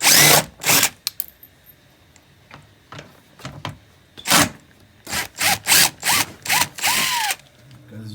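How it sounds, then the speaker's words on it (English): Impact wrench with a socket zipping 8mm bolts off a 2018 Camaro during a Borla exhaust and diffuser install, a run of sharp rattling bursts, several short blips then a rapid series of hammering pulses near the end, close and loud. "We're gonna use this little impact wrench with a socket attachment."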